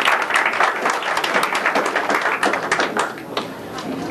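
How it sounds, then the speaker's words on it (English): An audience at a dental conference lecture claps in a dense, lively burst. Individual hand claps stand out within the close, sustained applause, which eases slightly toward the end. "I think you need to give yourselves a big round of applause"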